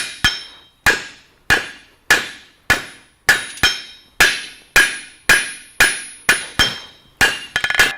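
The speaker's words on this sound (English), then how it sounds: "Also tilt our hammer and start forging." Blacksmith's hammer drawing out a taper on metal stock over an anvil, a steady series of about a dozen loud ringing strikes with bright metallic decay, ending in a quick flurry of lighter taps.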